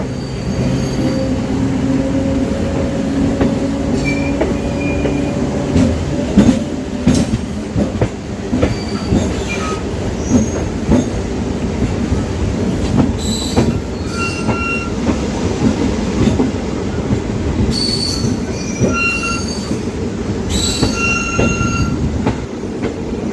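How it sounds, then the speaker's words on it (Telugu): A passenger train on the Secunderabad–Siddipet line rolls along steadily with a continuous rumble and rhythmic clatter of wheels over straight track, with occasional high metallic squeals, no talking. "ట్రాక్ సౌండ్ కూడా చూడండి, కొంచెం ట్రైన్ సౌండ్, ట్రాక్ సౌండ్"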